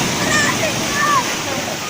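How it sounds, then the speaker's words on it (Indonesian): Waves wash steadily over a rocky beach in Flores, a close, loud, continuous rush of water with swelling splashes and faint tonal sounds on top. "pantai yang indah, pantai yang cantik, pantai berbatuan"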